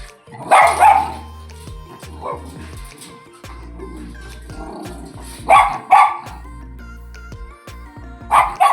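A dog at a mill barks in several loud, close bursts, with quieter growls and yips between them and a low mechanical drone underneath.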